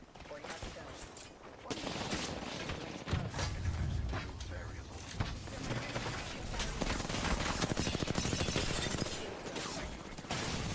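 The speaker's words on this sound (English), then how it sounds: "One is firing at us." Continuous gunfire in the video game Apex Legends, a dense fusillade of rapid shots and mechanical clatter mixed with game effects, heard at moderate level beneath occasional speech.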